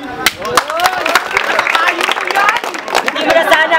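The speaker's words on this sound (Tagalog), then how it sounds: "perpekto na ang mga kamay ng kaliwa at kanan ng mga taong nanonood para sa isang matinding palakpak" Applause and clapping from the watching crowd at a street rap battle in Tondo, a dense bright patter of many hands with crowd noise mixed in, steady and lively throughout.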